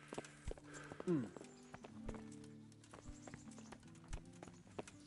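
Hooves clip-clop at a walking pace as a horse is ridden in Kingdom Come: Deliverance on PS5, with sharp, evenly spaced steps and a brief whinny, while a person talks over the game sounds.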